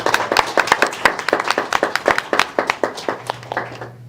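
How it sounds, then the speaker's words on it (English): Applause for assistant principals at a board of education meeting, a small group clapping in a quick, distinct series of sharp claps that thin out and stop near the end, with a steady low hum underneath. "let's give our assistant principals a round"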